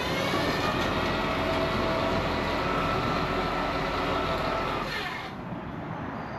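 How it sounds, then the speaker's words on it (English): A train rumbles steadily past behind a house in New York at moderate distance, a broad continuous roar that holds evenly and then eases slightly near the end. "So you have the train in the back."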